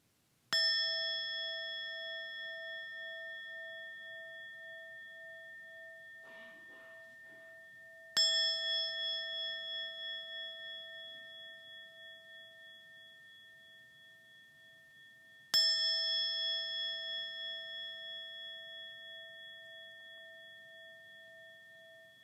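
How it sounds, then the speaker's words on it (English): A mindfulness bell is struck three times at long, even intervals. Each clear, resonant ring decays slowly into near silence before the next strike. "we'll start with three sounds of the bell of mindfulness"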